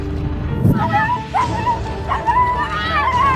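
A dog being rescued from a huge snake gives several short, close yelping barks and high whimpering whines over a few seconds, with other background sound underneath.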